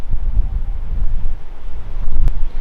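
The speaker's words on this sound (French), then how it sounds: "Il y a un peu de vent, je sais pas si on l'entend" Wind buffeting the microphone beside a mountain lake at about 3000 metres altitude, a low, continuous rumbling gust noise that swells and eases, with no voices.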